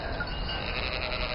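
Sheep in a field bleating, a sustained nasal bleat close by over a steady background, loud and continuous, with no one talking.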